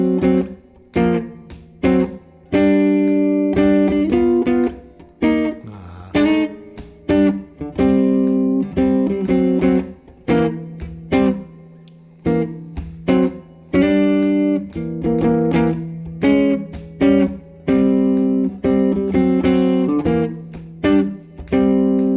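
Jazz guitar chords picked on the middle 4th and 3rd strings, a steady series of clear, close plucked chord stabs ringing and decaying one after another with no voices.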